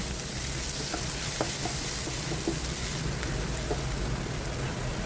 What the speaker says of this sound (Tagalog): Ayan, gisahin lang natin yung ating sibuyas, bawang at luya.